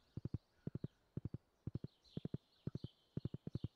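A horse's hooves clip-clop in the video game Stardew Valley, quick groups of three or four close, crisp hoof strikes repeating steadily and alone.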